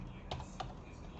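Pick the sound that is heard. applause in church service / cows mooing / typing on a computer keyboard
typing on a computer keyboard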